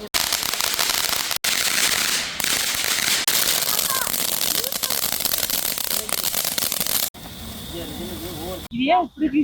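Firecrackers crackle and burst in a dense, loud, continuous barrage at a Diwali celebration outside a decorated house in the USA on a cold night, with a brief voice near the end.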